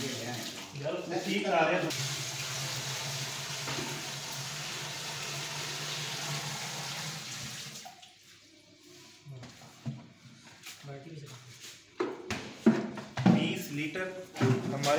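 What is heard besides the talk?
water poured into a container for shampoo making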